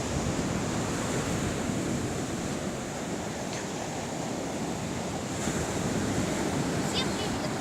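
Surf washing onto the Azov Sea shore, a steady broadband roar of waves mixed with wind buffeting the microphone, loud and continuous throughout.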